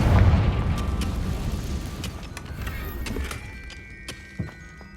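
A Confringo blasting spell explodes in Hogwarts Legacy with a loud, low boom at the start that fades into a rumbling tail, followed by a few softer pops and thuds.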